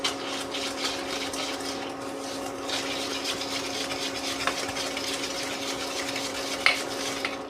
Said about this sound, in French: verser le reste dans un saladier avec la farine et le sel, et nous allons mélanger